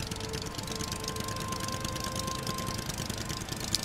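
An outboard motor drives a boat in the survival game Stranded Deep, giving a steady, close mechanical drone with a faint knocking texture that holds at an even level throughout, with no voices.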